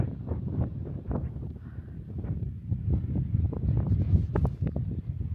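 Breezy wind at Downpatrick Head, a sea cliff headland on the coast of Ireland, gusting and buffeting close against the microphone in low rumbling bursts throughout.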